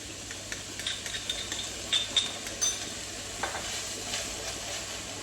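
Crushed garlic sizzles in a pan alongside onions, a soft continuous frying hiss with a few light clinks of a utensil stirring against the pan, with no talking.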